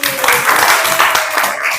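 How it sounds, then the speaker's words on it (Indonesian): A classroom of students claps together in a steady, dense round of applause that carries on without pause, close and fairly loud, at the teacher's request partway through a mathematics lesson. "Oke, tepuk tangan lagi."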